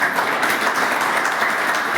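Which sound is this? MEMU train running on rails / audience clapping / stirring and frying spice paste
audience clapping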